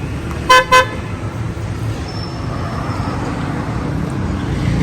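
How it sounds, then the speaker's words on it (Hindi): A car horn blasts twice in quick succession over steady outdoor traffic rumble. "मैं हॉर्न दूं?"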